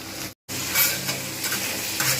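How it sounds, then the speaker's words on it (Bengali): Pointed gourd (potol) frying in a covered pan for potol aloo posto, a steady close sizzle with occasional stirring scrapes throughout, broken by a brief silent gap near the start. "আমি কিন্তু ঢাকনা দিয়ে ভালো করে ভাজবো পটলগুলো"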